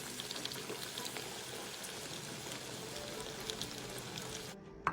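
Pieces of pork belly marinated in fermented red bean curd deep-fry in oil, giving a faint, steady crackling hiss with scattered small pops. A brief clink sounds near the end.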